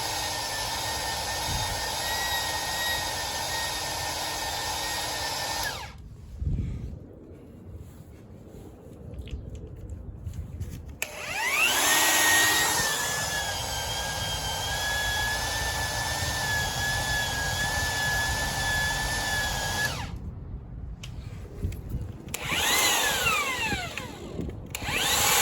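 A power threader cuts 1 1/4-inch threads on galvanized gas pipe, its motor whining steadily and loudly in two long runs separated by a short pause, with a rising pitch sweep as it restarts and faint grinding throughout.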